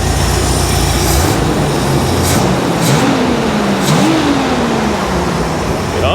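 A 1975 Bricklin SV-1 engine runs loud and close in snowy winter conditions, steady with a couple of rising revs that swell and fall back to idle, no talk over it.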